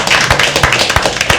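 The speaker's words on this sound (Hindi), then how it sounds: "तालियां बजती रहनी चाहिए" An audience at a live poetry open mic at The Habitat claps in a quick, steady rhythm, loud and close, with four or five strong beats standing out.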